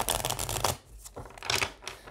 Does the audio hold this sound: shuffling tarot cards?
yes